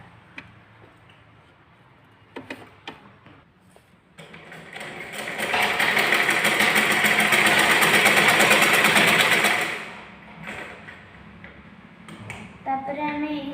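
A sewing machine stitches a 30-inch blouse, running in one steady, loud mechanical burst of about five seconds, with softer ticking and handling clicks before and after.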